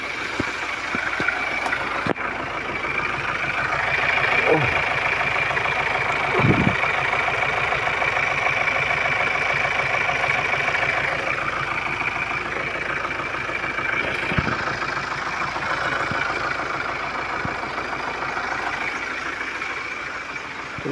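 A 2021 Ford Ranger Raptor diesel engine idles steadily on its first start, shaking, with a continuous low rumble, a persistent high whine and occasional knocks and thuds, close and fairly loud throughout.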